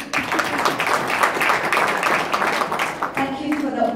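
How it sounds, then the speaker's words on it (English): An audience claps for charity donors at a gathering, a continuous round of applause lasting a few seconds, with voices talking underneath as it tapers off. "Clap those people."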